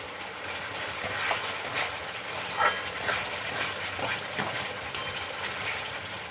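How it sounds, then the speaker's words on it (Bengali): Spices fry in a pan for a cauliflower curry, making a steady, close sizzle that never stops, with occasional stirring scrapes breaking through. "খুব ভালো করে আমি মশলা কষিয়ে নেব যতক্ষণ না মশলার থেকে কাঁচা গন্ধ যাচ্ছে।"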